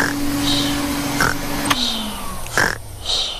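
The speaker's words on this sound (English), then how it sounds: "It's the vacuum cleaner." Cartoon vacuum cleaner running at night in a family home, a loud steady droning hum with tonal whines, overlaid by intermittent animated pig grunts and snorts.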